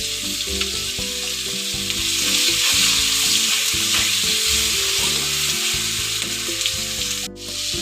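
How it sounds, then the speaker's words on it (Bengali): Tomatoes seasoned with salt fry in a pan for a cabbage dish, giving a loud, steady, dense sizzle throughout, with faint stirring scrapes and a brief drop near the end. "টমেটোটা আমার ভাজা হয়ে গেছে।"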